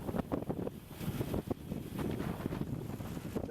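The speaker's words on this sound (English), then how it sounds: "still very windy though." Strong wind buffeting the microphone while riding a recumbent trike on the road toward Lowestoft, Suffolk, a steady low roaring rumble with gusty surges and no talking.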